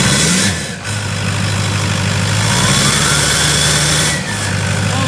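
An LLY Duramax diesel truck engine with a 3-inch downpipe idles close by with a deep, rough rumble, revving slightly twice over a few seconds.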